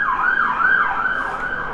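An emergency siren wails up and down in a steady repeating cycle, loud and clear with no voices.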